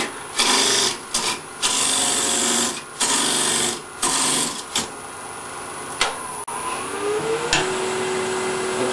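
Carbide insert rougher cutting a wooden bowl blank on a woodturning lathe spinning around 2,000 RPM, a loud rasping, hissing cut in repeated bursts with brief pauses as the tool comes around the curve of the bowl bottom.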